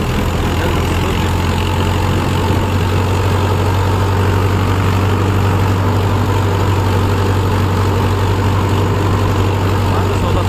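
A loud, steady Mahindra Yuvo 575 tractor engine idles throughout, a constant low rumble with no breaks or speech over it.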